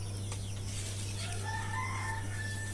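Native desi chickens cluck close by on a farm while a rooster crows, short calls and a longer crow over a constant low hum, with no talk.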